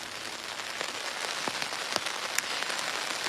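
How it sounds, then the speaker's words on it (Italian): Heavy rain pours down during a spring storm in the Prosecco hills, a dense, steady hiss of drops with scattered louder pattering hits, close and continuous with no voices. "piove e piove molto, ha appena smesso, sta ancora piovendo"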